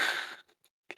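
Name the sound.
yawn into a microphone while trying to laugh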